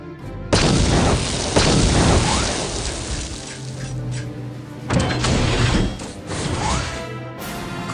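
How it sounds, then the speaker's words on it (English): Explosives detonate in the game Star Wars: Knights of the Old Republic with two loud, roaring blasts. Each booms for several seconds, the first longer, then rumbles away. "As per my master's request, I shall detonate the explosives."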